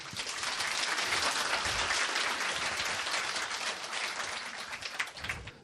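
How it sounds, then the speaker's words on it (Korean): Sustained applause from a lecture audience during a philosophy talk, a dense even wash of many hands clapping steadily for several seconds, fairly close and loud, with no talking over it. "박수를 한번 쳐주세요."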